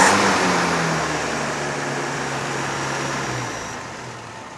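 A Land Rover engine runs steadily after carburetor work, giving a smooth, even drone of moderate loudness that fades slightly over a few seconds, with no voices over it.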